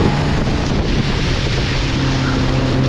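Water rushes and splashes steadily against a moving houseboat, with a continuous wind-buffeted roar and a low engine hum underneath.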